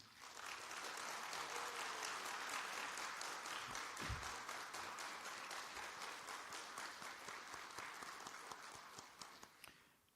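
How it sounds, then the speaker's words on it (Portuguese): A crowd applauds at a public campaign ceremony in Brasília marking the symbolic unveiling of the Tesourômetro, with steady, dense clapping that holds for about ten seconds, a brief low thump midway, then thins out at the end. "solicitamos aos presentes uma salva de palmas para marcar este momento"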